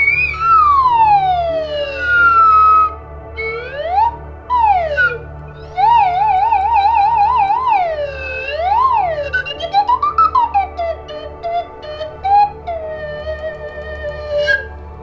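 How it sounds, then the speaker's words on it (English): A slide whistle played alone, close and loud, with long swooping glides up and down, wobbling pitch bends and short rising and falling slides, played solo over a steady low hum. "What a cool musical instrument! A slide whistle."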